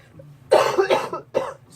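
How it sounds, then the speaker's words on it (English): A woman coughs several times indoors while crafting, with a quick burst of two or three rough coughs followed by one more after a brief pause, close and fairly loud. "I'm at that stage where I'm coughing for no apparent reason"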